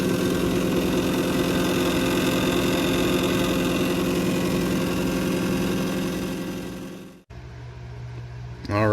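A disc resurfacing machine running a 20-second polish with compound on a scratched game disc, a steady humming motor drone that winds down and stops, followed by a short clatter and a voice.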